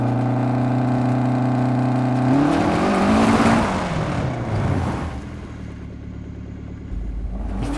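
Rally car engine in a racing video game holding a steady tone, then surging as the throttle is stabbed and the wheels spin, a rough roaring burst that fades to a lower rumble.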